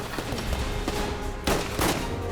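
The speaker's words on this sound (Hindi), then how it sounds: "वहाँ पे पूरा एक वॉर सीक्वेंस है, गोलियाँ चल रही हैं" Gunfire from a war sequence in a web series, dense overlapping bursts of shots with two louder cracks standing out, continuous and loud with no talking.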